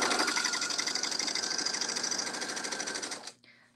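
A sewing machine stitches a fabric seam at a 3.0 stitch length with a 5/8-inch seam allowance, running as a steady, close, rhythmic whir for over three seconds before stopping abruptly.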